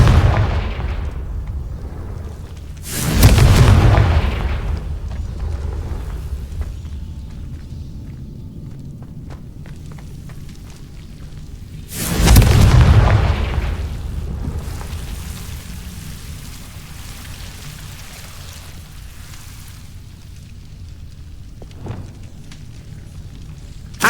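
Two heavy booming blasts from Confringo spells in the Hogwarts Legacy game, each a deep, loud burst with a rumbling tail, spaced several seconds apart over a low ambient bed.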